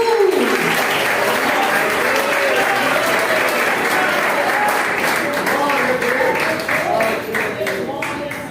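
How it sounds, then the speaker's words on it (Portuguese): Sustained applause from a church congregation honoring Jesus at a Portuguese-language evangelical campaign service, dense and steady throughout, thinning slightly near the end. "Mais palmas para Jesus."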